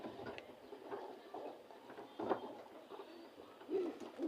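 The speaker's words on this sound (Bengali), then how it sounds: "আরেকটা কবুতর আছে" Soft pigeon cooing, a few low murmuring coos around the yard in a quiet outdoor setting, moderately close and gentle with no speech.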